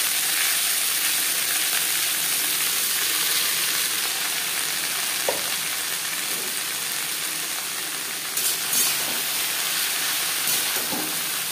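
Red amaranth greens fry in hot oil with black cumin and chili, a steady broadband sizzle holding throughout with a few faint clicks of stirring and no voices.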